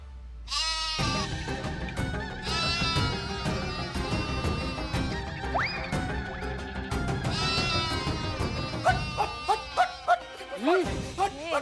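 Goats bleat repeatedly in wavering, nasal cries, loud and close, mixed with background music and spoken voices.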